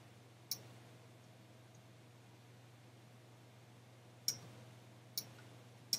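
Crisp computer mouse clicks in Photoshop Elements sound faintly over a quiet electrical hum, one early click and then three more spaced in the last two seconds.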